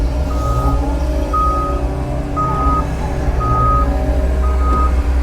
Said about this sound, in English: then we'll get rid of the horrible beeping reversing noise